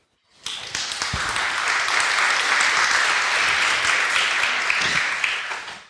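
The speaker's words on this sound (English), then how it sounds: "So please give a very kind applause to Elke." An audience applauds to welcome Elke Moritz, a QA speaker, at the FrOSCon open-source conference, with dense, steady clapping that starts abruptly and holds at full strength for several seconds.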